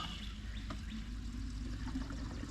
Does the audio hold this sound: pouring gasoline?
yes